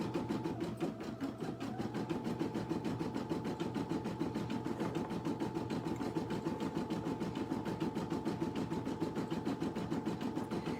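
An embroidery machine stitches out a design of four flamingos in a faux smock pattern using a re-positional hoop, giving a steady, fast mechanical whirr with a rapid needle rhythm that runs on unbroken and evenly loud.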